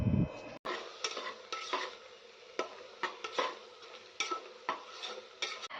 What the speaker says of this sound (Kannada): ಚಿಲ್ಲಿ ಪೌಡರ್ನ ಸೇರಿಸ್ಕೊಂಡು ಇವಾಗ ಚೆನ್ನಾಗಿ ಫ್ರೈ ಮಾಡ್ಕೋತಾ ಇದ್ದೀನಿ